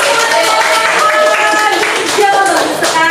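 A class of children claps together in a classroom during a teaching activity, with quick, uneven clapping running steadily and fairly close while voices talk over it.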